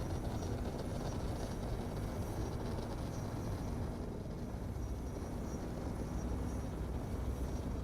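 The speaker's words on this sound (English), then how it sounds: "I'm seeing people's helicopters, their ornithopters when they have them." Ornithopters in the Dune: Awakening video game fly overhead as a steady, dense low rumbling drone with faint high hiss, constant in loudness throughout, with no talk.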